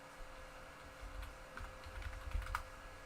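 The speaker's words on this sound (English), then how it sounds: "I guess I could just type it in up here." Quiet typing on a computer keyboard, with soft scattered key clicks over a low room hum.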